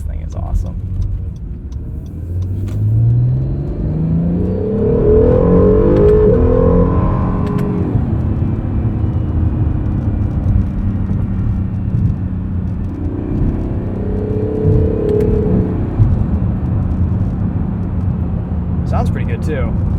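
A 2020 Acura NSX in manual mode accelerates, its engine rising and falling in pitch through loud close revving sweeps over a heavy rumble, with a voice speaking over it.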